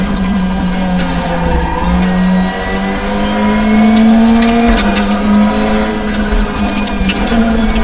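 Honda Civic race car engine in the RaceRoom driving game, holding a loud steady drone close up, pitch climbing and shifting with gear changes, faint tire noise beneath.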